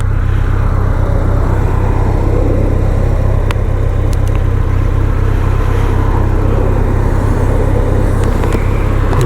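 Road traffic rumbles around a BMW K1100LT motorcycle out on the road, a steady, loud low drone of engines and tyres with wind roar, continuous throughout with a few faint brief high ticks.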